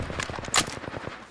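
Rapid automatic weapon fire in the video game Apex Legends, a dense rattling burst of shots with a sharp loud crack near the middle, close and continuous throughout.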